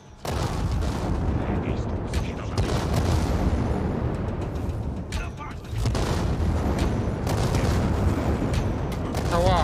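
Heavy, rumbling game explosions and booming blasts fill the clip almost continuously, with a brief dip before another loud burst of detonations.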